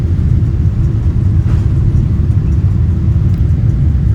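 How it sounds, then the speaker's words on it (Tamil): An Emirates airliner on its takeoff roll from Chennai, bound for Dubai, heard from inside the cabin as a loud, continuous low engine roar that stays steady and unbroken throughout. "ஸோ அதோ டேக் ஆஃப் ஆகிட்டோம்."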